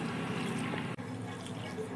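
Water pours steadily into a mixer jar for raw mango juice, a continuous close splashing and trickling with a brief break near the middle.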